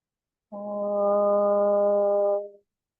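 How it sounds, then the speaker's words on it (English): A single sustained Om chanted by a voice during a yoga session, rising smoothly, held steady for about two seconds, then fading out in a quiet room. "Exhale will open with the sound of Om."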